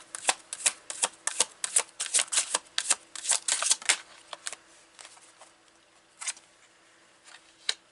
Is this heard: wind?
no